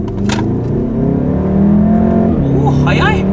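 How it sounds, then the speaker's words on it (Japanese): Volkswagen Golf R with an upgraded turbo pulling hard in second gear in normal drive mode on a city street, a loud, steady rising engine drone heard from inside the cabin with a person talking over it. "はい、じゃあちょっとアクセル踏んでみますよ。 いくぞー、2速。"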